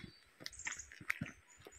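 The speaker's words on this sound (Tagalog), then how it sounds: "The birds are singing." Faint bird chirps and short calls dot a quiet outdoor scene on a nature trail at Ruta del Parrissal, Teruel, Spain, a few brief tweets rising over soft background noise and footsteps.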